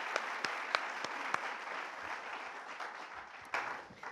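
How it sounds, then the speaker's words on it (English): An audience applauds gold sponsors at an architecture symposium, a steady wash of clapping with a few sharp, close claps standing out, swelling briefly near the end before easing off. "So let's give a round of applause for our gold sponsors."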